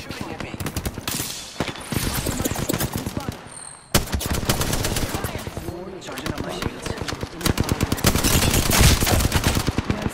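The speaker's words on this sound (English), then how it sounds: "The enemies are shooting at me." Rapid automatic gunfire rattles almost nonstop in Apex Legends, loud bursts overlapping with a brief pause midway, while a voice talks over the shooting.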